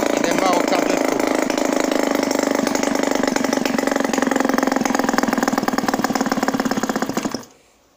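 A Peugeot 103 moped engine runs steadily at a loud, close idle with a fast, buzzing two-stroke rhythm, then cuts off abruptly near the end, leaving silence.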